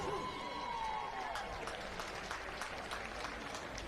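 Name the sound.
crowd applauding at a campdraft event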